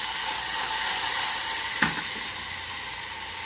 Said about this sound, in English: Hear that sizzle, hear that sizzle.